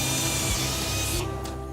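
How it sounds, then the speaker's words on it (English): A drill bores visor attachment holes in a helmet held in a mold during factory production, a loud continuous grinding whine that drops off near the end. "Then it's straight into another mold to drill holes where the visor will be attached."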